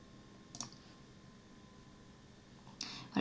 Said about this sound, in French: il faut bien cliquer sur modifier